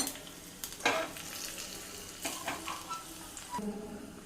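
Turmeric sizzles in hot tempering oil with chillies while preparing majjiga pulusu, a faint steady frying hiss with light stirring scrapes and small clinks of a pan.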